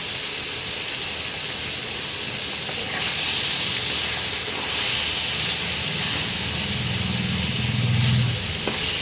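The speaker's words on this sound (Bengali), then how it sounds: "সব মাছ ভেজে ফেলেছি, আর অল্প কটা আছে, এই কটাও ভেজে নিচ্ছি।" Small gule fish frying in hot oil for a mustard and poppy seed curry, a loud continuous close sizzle that swells slightly partway through, with no talk.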